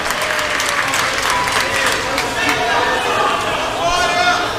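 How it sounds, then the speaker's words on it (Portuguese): A church congregation applauds while taking their seats, sustained crowd clapping mixed with voices calling out and chatter throughout. "Toma o seu assento aplaudindo a Jesus"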